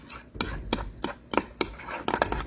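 Quick utensil strokes clinking and tapping against a bowl while ingredients are mixed, around ten sharp knocks in an uneven rhythm, close and fairly quiet.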